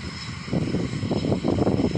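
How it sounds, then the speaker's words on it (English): Engines of a Scottish passenger aeroplane wind up before takeoff, a steady droning hum that swells and pulses slightly, heard from inside or near the aircraft with no talking. "The engines are winding up."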